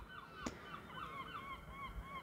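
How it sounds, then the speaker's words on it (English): A loud chorus of seagulls squawks in repeated honking calls, some overlapping, with a sharp click partway through, set against a faint steady background hiss. "And there's a really loud chorus of seagulls there."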